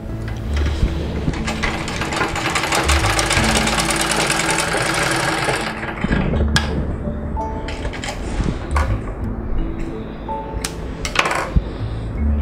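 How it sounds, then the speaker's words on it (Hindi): Sewing machine stitching during a repair of a lower-thread stitch fault, a loud continuous mechanical whir for several seconds, then stopping to leave scattered clicks, clunks and handling knocks up close. "इसके लिए हम लोग दोबारा सिलाई चेक करेंगे"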